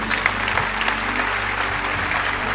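Church congregation applauding during a worship service, a loud, dense burst of clapping from a large crowd that holds steady throughout.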